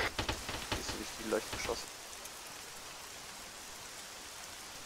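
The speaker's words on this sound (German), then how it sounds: "Regen." Rain in the Arma 3 video game, a faint steady patter on surfaces continuing throughout, while someone speaks briefly over it at the start.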